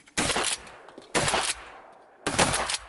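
Three loud shotgun blasts ring out about a second apart while hunters shoot teal ducks during a snowstorm, each sharp report trailing off quickly.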